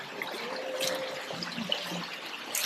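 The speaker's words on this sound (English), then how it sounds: "Watching that river." River water flows with a soft, continuous trickle and burble at a scenic spot along the Arnhem Highway. It is faint and steady, with no voices.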